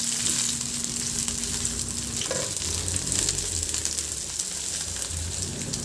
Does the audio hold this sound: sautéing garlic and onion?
yes